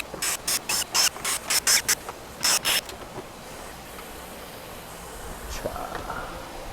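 A ratchet wrench loosening 10mm bolts on the engine cover of a new Kia Carnival diesel, a run of quick, loud, evenly spaced clicking bursts close by, then quieter handling noises.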